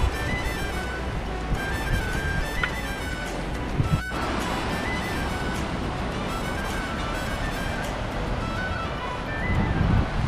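Sea waves wash continuously on the seashore where mackerel is being fried, a steady broadband surf roar that holds through the whole stretch with no talk over it.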